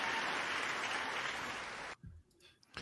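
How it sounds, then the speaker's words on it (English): Crowd applause used as a sound effect plays loud and even for about two seconds, then cuts off abruptly, leaving only a few faint thumps and clicks with a brief burst near the end. "that applause sounded kind of choppy"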